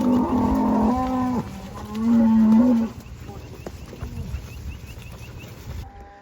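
Cattle on a farm, cows and heifers, low drawn-out moos calling one after another, loud and close, with several overlapping calls at first before fading to quieter background noise.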